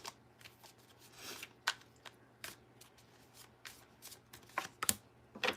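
A deck of tarot cards is shuffled by hand in a quiet room, with crisp riffling bursts and sharp slaps coming in irregular clusters across several seconds, close and clear, with no talking.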